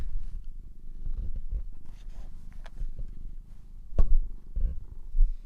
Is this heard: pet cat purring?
yes